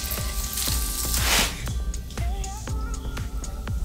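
Rice frying and sizzling steadily in a pan while a utensil stirs and scrapes through it in repeated strokes, close and continuous with no talking.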